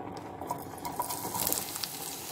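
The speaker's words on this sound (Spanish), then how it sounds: "Ya que el aceite está caliente, vamos a agregar lo que es la cebolla." Onion dropped into hot olive oil in a pan for Mexican-style nopales, giving a steady close sizzle and frying hiss with light stirring scrapes throughout.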